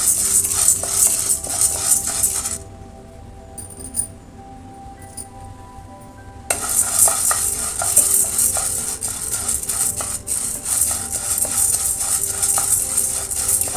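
Curry leaves being stirred and dry-roasted in a pan over a low flame for curry leaf chutney powder, with soft scraping and light clinking strokes continuing at a close, steady pace, pausing briefly midway.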